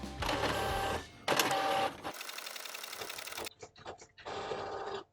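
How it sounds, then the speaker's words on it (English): Epson EcoTank inkjet printer printing a tattoo stencil: loud bursts of mechanical whirring and print-head shuttling, broken by a short pause, then quick clicks and a final stretch of whir as the paper feeds through. "go to print, make sure we've got our Epson Eco-Tank selected, and print."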